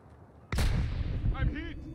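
A single loud rifle shot in Call of Duty Modern Warfare 2 Ground War, a sharp crack with a long rumbling tail, then brief faint voice-like chatter.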